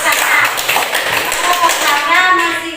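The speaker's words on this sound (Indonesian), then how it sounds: "Bagus, tepuk tangan." Children in a classroom clap their hands in praise during a lesson, a brisk patter of small hands close by, mixed with voices and young children talking over the clapping.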